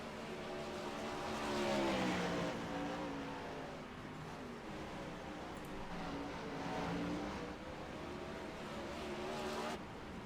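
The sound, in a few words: race cars rolling back out after a wreck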